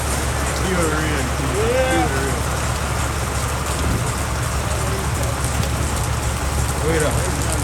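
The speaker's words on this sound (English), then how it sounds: "Pure rain." Heavy rain falling in a dense, steady hiss under a low hum, with faint voices and a brief whistle-like sound in the background.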